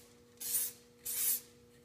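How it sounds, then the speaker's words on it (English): A spray can applies protective coating onto a car wheel in two distinct hissing bursts, each about a third of a second long with a short pause between, close and crisp against a faint background hum. "just like you do a spray bomb when you're spraying paint on"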